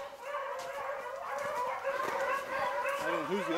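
A pack of beagle hunting dogs bays on an Ohio rabbit hunt, with overlapping drawn-out howls and yelps carrying steadily at moderate distance and a rising, wavering cry near the end.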